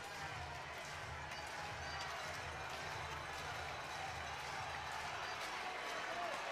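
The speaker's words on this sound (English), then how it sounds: "Crowd coming alive." Baseball crowd at an NCAA game between Georgia and Mississippi State, a moderate early-morning turnout, giving a steady, diffuse roar and cheer that holds evenly throughout with scattered clapping mixed in.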